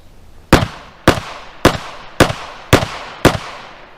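Handgun shots fired from under bed covers, six sharp cracks spaced roughly half a second apart, loud and close, with no voices.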